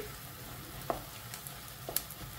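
Fish roe frying in a pan gives a quiet, steady sizzle with a few soft clicks and pops scattered through it, and no voices.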